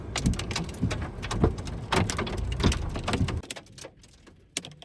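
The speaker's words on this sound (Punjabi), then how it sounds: "ਇੱਥੇ ਆਪਾਂ ਬਲੌਗ ਬਣਾਉਣ ਤੇ ਗੜੇ ਆ ਗਏ ਆ" Hailstones rattle and tick densely on a surface in a loud, busy patter that suddenly thins out, leaving a few scattered hits.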